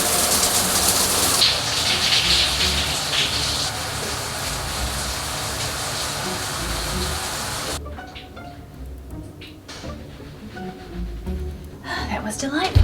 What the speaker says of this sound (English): It's time to have a shower before bed.